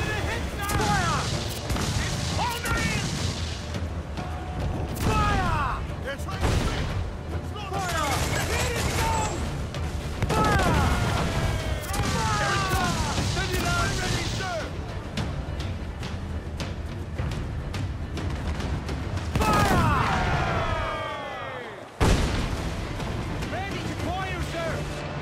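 Ship cannons firing in Assassin's Creed IV: Black Flag, a dense barrage of booming blasts and crackling impacts that goes on almost without a break, with music and game effects mixed in and a player talking throughout.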